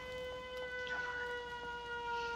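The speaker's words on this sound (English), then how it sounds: "we need to turn on the siren, warn everybody that it is coming active" Civil defense siren switched on at the Red Rocket base in Fallout 4, a steady multi-tone wail that holds at a constant pitch for the whole stretch, loud and continuous with no voices over it.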